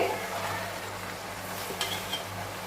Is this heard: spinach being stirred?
yes